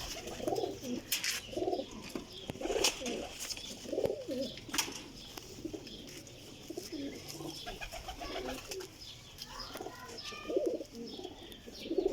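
Pigeons coo repeatedly in soft, throaty bursts, several birds overlapping, with scattered clicks and rustling nearby.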